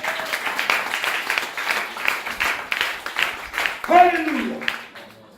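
A church congregation at a prayer gathering claps and cheers together in steady rhythmic applause lasting several seconds, with a voice calling out partway through.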